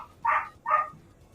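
Two quick dog barks from Cities: Skylines II, close and clear against a quiet background.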